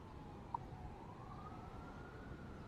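A faint, distant siren wails in a slow rising tone over a steady low background hum.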